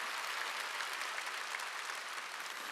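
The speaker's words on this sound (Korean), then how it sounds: "박수." A congregation at a church revival meeting claps together in steady, even applause that stays constant throughout, heard from a slight distance with no voices on top.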